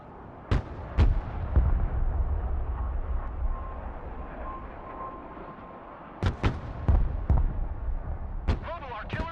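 Artillery firing in the war video game Broken Arrow: a few sharp booming shots early on, a stretch of rumbling, then a rapid cluster of loud blasts, with brief radio-style voice chatter between them.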